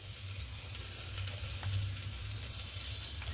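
Sweet potato being stirred in a frying pan, a soft continuous sizzle with light scraping and tossing sounds, steady and close, no voices.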